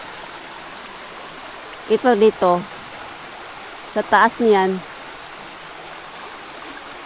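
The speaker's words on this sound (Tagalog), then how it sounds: "Lakas ng ano ng tubig oh." A strong stream flows outdoors at night, producing a steady broadband rush that continues throughout while someone speaks two short phrases over it.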